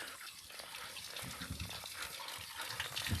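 Spring water gushes and splashes steadily from a roadside source in a Turkish river valley, a close, continuous broadband flow with small bursts and no talking.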